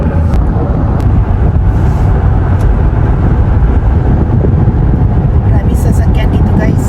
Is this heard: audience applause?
no